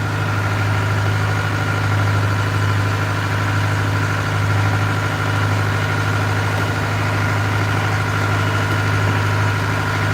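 A boat engine runs at full throttle with a loud, steady, unbroken drone and low vibration that holds at an even pitch throughout, with no voices.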